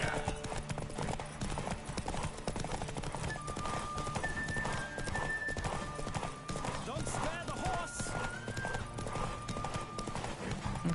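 A horse gallops in The Witcher 3 game, rapid rhythmic clip-clop hoofbeats running steadily throughout, with a whinny and a game music line over them and someone talking.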